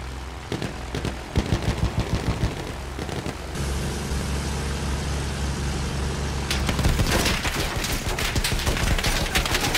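Machine gun fire rattles in bursts in the World War I shooter game Battlefield 1, with rapid close volleys, a droning engine hum in the middle, then a dense stretch of continuous gunfire and explosions.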